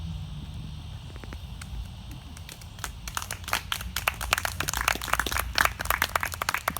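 An audience claps at a poetry reading by a Hungarian beat poet. Scattered claps start faintly over a low murmur, then grow denser and louder into steady applause from about three seconds on.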